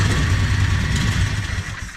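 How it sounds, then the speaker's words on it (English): A Harbor Freight 670cc small engine, freshly swapped in, runs steadily with a low, throbbing idle and a constant mechanical drone that stays loud and even throughout, with no voices. "This thing idles right, it immediately fires up"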